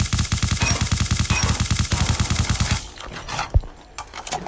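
ICR rifle fired through a 3x scope in Call of Duty Mobile, a fast steady stream of loud close shots for nearly three seconds, then sparse quieter clicks and one sharp final crack.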